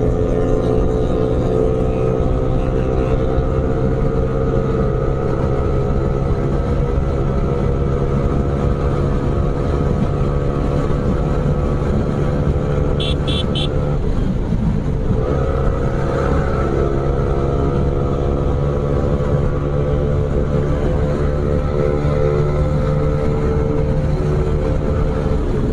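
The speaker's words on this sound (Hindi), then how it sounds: "आज इतना सारा सुपर बाइक गया है ना भाई" Engine noise from bikes on an Independence Day group ride near Dankuni Toll Plaza in India: a loud, steady, close drone with layered engine tones that keeps going, and a brief swell partway through as one passes.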